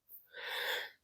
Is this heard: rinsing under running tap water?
no